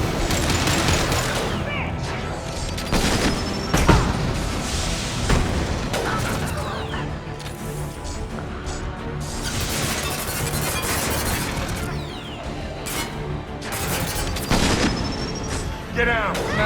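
Dense gunfire fills a Mass Effect game battle, with rapid bursts, booming shots and explosions over a steady combat din while voices call out in between.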